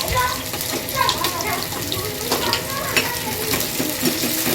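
Vegetables frying in hot oil in a pan for Manchurian gravy, giving a steady close hiss and sizzle with faint stirring scrapes throughout, and a voice talking underneath.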